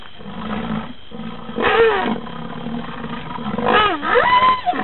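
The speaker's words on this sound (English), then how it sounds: "Or the playful whines and grumblings of a sociable rhino." Reconstructed dinosaur call modeled on a sociable rhino's playful whines and grumblings: loud, close roaring grumbles with rising and falling whining swoops, heard alone for several seconds.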